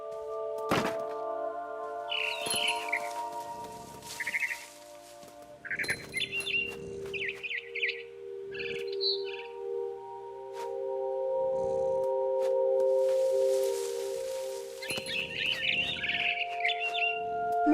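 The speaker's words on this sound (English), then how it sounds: "Then I heard chirping outside my window. It was a barn swallow going back to her nest." A barn swallow in the video game What Remains of Edith Finch gives short bright chirps in scattered bursts, mixed with dull thunks and sustained tonal game sounds.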